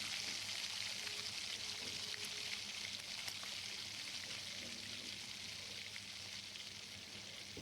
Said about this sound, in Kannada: ನಾನು ಇದಕ್ಕೆ ಈಗ ಎಗ್ ಹಾಕ್ಕೊಳ್ತಾ ಇದ್ದೀನಿ.